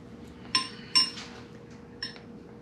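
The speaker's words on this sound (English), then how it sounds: "I'm going to tap that pin in though." A hammer taps a steel pin into an ATI harmonic damper on an LS engine, giving three sharp metallic clinks at uneven intervals, close and fairly quiet over a steady low hum.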